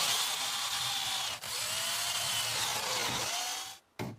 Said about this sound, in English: you then need to drill a series of holes